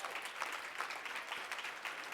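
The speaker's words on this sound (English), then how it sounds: "Give them a round of applause" Distant audience applause at a graduation ceremony for a class of graduates, faint steady crowd clapping throughout.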